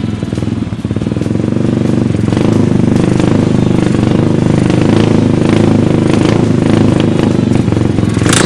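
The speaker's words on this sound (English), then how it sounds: "let's proceed to turning on the engine and testing it out." A Lance Buggy 250 with a big bore upgrade starts and settles into a loud, steady idle, its engine running close by with a rough, buzzy drone and light mechanical clatter throughout.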